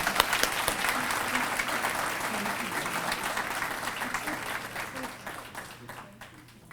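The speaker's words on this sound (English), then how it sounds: "How about a nice round of applause again?" Indoor audience at a neighborhood conference awards session gives a sustained round of applause, dense steady clapping that slowly fades toward the end, with no talk over it.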